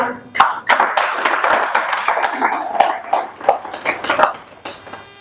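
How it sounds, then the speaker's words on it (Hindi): Audience clapping at a stage event in India as a host is invited up, a few sharp early claps building into steady, fairly close applause that thins out over about five seconds. "मैं उनको मंच पे आमंत्रित करता हूं तालियों के साथ"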